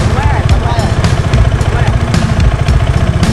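A custom-built motorcycle engine runs close by with a rapid, throbbing low pulse and some mechanical clatter, while people talk loudly over it.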